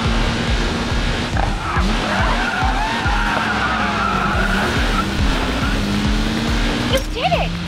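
Race cars in the Racing Master video game skid through a corner with a loud, sustained tire squeal over a constant engine roar, accompanied by upbeat game music.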